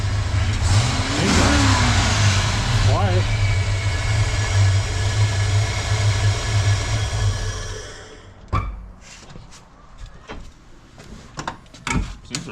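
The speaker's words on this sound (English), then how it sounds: "I think the engine sounds solid." A modified 5.0 Mustang V8 runs steadily up close with a deep, even rumble for about eight seconds, then shuts off, leaving only faint scattered knocks and rustles.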